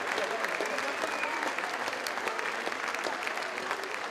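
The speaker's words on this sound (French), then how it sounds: "cette standing ovation, comme disent ces gens qui se lèvent pour vous applaudir" A standing ovation from a rugby club anniversary audience for the club's former presidents, a fairly distant, sustained patter of many hands clapping with a faint voice under it.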